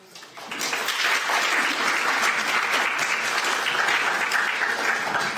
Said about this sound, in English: Everybody, give him another round of applause